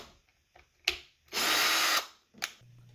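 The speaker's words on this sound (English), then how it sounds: "all holes will be drilled at the same height." A power drill bores a hole through a pipe, whirring in one steady half-second burst, close and loud, framed by a few short clicks and knocks of handling before and after.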